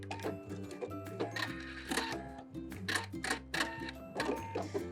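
A sewing machine back stitches while sewing in a zipper, giving rapid mechanical clattering bursts that stop and restart in an uneven rhythm, close and alone.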